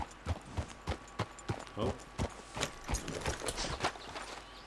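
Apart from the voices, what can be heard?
horse hooves in video game Red Dead Redemption 2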